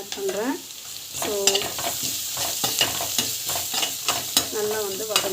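Onions with turmeric and chana dal sautéing in a pan, a constant close sizzle broken by repeated scraping stirs and light clatter of a spoon.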